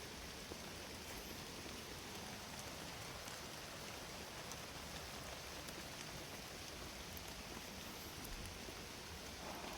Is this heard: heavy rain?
yes